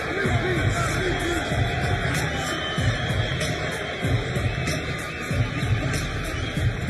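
A boxing arena crowd gives a fighter a loud, noisy reception at a 2003 title bout, a dense, continuous roar of cheers and shouts, with a commentator talking over the crowd.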